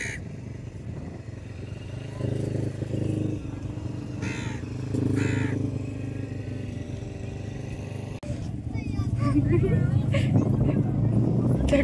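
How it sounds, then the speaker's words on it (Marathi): A crow caws a few times at a beach during a birthday outing. The harsh calls sit amid people talking and a low rumble of passing motor traffic. "त्या कावळ्याला पकडते"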